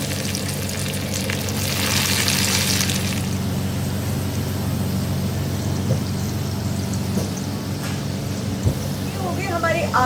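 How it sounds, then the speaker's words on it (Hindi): Potatoes frying in hot oil, a dense continuous sizzle and crackle that swells briefly near the start and stays steady and close, with a low background hum. "ऑयल अच्छे से गर्म हो जाए उसके बाद इसमें हम डाल देंगे हमारे आलू फ्राई होने के लिए।"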